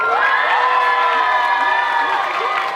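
A school audience at a collège slam poetry final cheers, shouts and whoops for the performers, a loud, dense and continuous crowd roar with children's voices on top.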